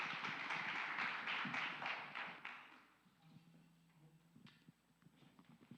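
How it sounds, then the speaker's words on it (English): Audience applause at a church teaching session, a dense burst of many hands clapping for about three seconds that quickly fades to scattered claps and room noise. "Let's give these guys a round of applause."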